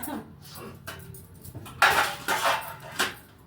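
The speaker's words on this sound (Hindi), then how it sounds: "तो अब ये बर्तन लगा लेते हैं।" Washed steel dishes and utensils are stacked and put away, with a few scattered clinks early and then a louder cluster of metallic clatter and rattling, close by and without talk.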